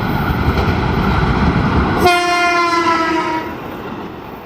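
The Anggrek passenger train, made up of first-generation stainless steel executive cars, rumbles past loudly, then sounds a long, steady horn blast midway before the roar begins to fade.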